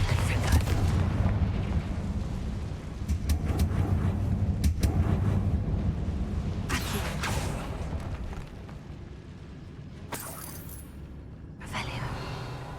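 Bombarda blasting spells explode in Hogwarts Legacy as a few separate booming bursts over rumbling game sound, with a person talking throughout.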